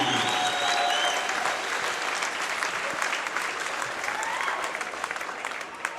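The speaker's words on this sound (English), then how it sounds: "Let's have another round of applause for these fine student athletes" Sustained applause from a crowd honoring student athletes, a dense wash of many hands clapping at once, loud and continuous, with whistles and faint cheering voices mixed in before it eases slightly at the end.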